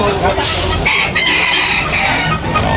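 A rooster crows loudly and close by at a rooster market, its long call ringing out over a noisy background with some clucking.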